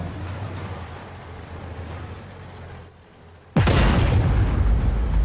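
A single loud, booming T14 tank cannon blast in a video game erupts after a stretch of low rumbling engine noise, followed by a sustained roar.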